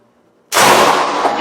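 An airgun shot with a heavier pellet pops a Megaboom supersonic target: after near silence, a single sharp, loud crack bursts in and rings out briefly.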